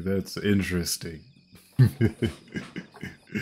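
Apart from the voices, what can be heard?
crickets on the pause menu of Tokyo Xtreme Racer: Drift 2 video game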